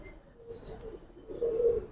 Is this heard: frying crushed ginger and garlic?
no